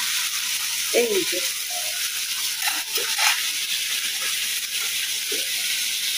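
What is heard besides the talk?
fish frying in a pan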